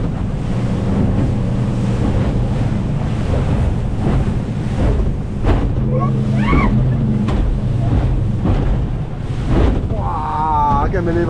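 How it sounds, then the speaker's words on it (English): Large rough ocean waves around the Whitsundays crashing and surging beneath a buffeting wind roar on the microphone, heard from a moving boat with its motor rumbling, with voices talking briefly near the end. "We don't really get waves this big in Cairns"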